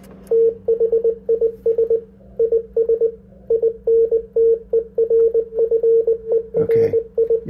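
A very strong, 40-over signal on a Yaesu FT-DX10 transceiver keys on and off in rapid choppy bursts of a steady tone that swamps a faint weak signal, with a brief noisy crackle near the end.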